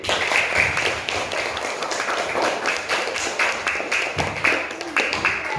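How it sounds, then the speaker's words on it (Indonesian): Scattered hand clapping from a small audience, probably children, at the close of an interview about saving energy; a steady, fairly close patter of claps lasting several seconds with no speech over it. "Tepuk tangan."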